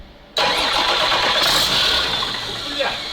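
A CASE 6TA-830 diesel engine in an abandoned ZIL 4975 truck cranks and fires abruptly after a quiet moment, then settles into a loud, rough, steady idle with a slight rise in revs.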